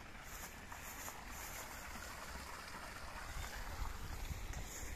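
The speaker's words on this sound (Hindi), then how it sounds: "पानी का झरना देखिए।" Waterfall water flowing steadily in hills along the Kunti Betta trek, a faint continuous broadband rush with some wind noise and no break.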